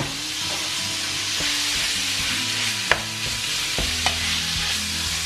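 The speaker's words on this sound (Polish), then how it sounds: "teraz pozostaje nam obsmażyć mięso. Mięso dodałam na rozgrzane 2 łyżki oleju." Meat sizzles in two spoonfuls of hot oil in a pan, a steady close crackling hiss broken by a few sharp clacks as a spatula stirs and separates the pieces, with no voices.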